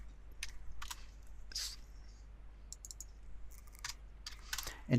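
Quiet, close typing on a computer keyboard while working in an Excel 2013 spreadsheet, with scattered individual key clicks and short bursts in an otherwise quiet room.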